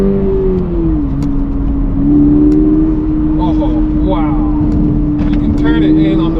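2023 Toyota GR86 engine droning loudly under throttle on the road, a steady close mechanical hum that rises slightly in pitch, with someone talking over it.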